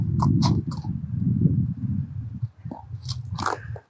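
A blind pony walks on a firm surface while dragging its front toes without lifting its feet, making close, repeated gritty scraping and crunching scuffs in an uneven rhythm.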